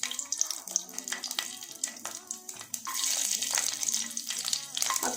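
Garlic sizzles in a pan of spicy pepper gravy (milagu kulambu) with curry leaves over a low flame, a continuous close, bubbling hiss with faint background voices.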